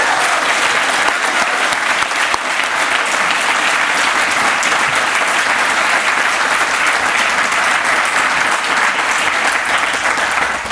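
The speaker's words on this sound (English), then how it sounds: "I just want to give a great round of applause to all the Father Bills and MainSpring staff" At the groundbreaking of a housing resource center, a crowd claps loudly for the Father Bill's and MainSpring staff; a thick, unbroken wall of applause rolls on for over ten seconds.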